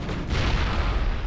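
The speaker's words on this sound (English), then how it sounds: "I got a grenade!" A grenade explodes in the video game Mass Effect, a single short, dense burst of broadband rumble that fills the moment at close range.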